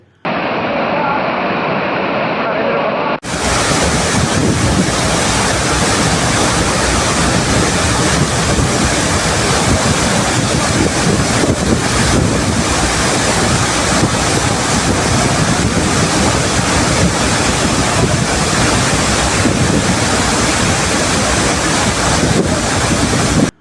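The Courtallam waterfalls in flood during heavy rain, a dense, steady, loud roar of crashing water with wind buffeting the microphone, continuous throughout with no break.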